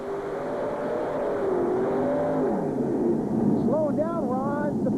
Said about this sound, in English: you heard him get up and down on the throttle, and then he just shut it right down